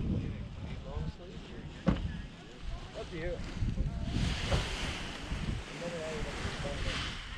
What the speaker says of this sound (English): Wind is fairly brisk